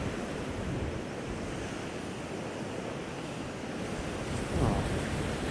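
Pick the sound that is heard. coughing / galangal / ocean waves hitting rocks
ocean waves hitting rocks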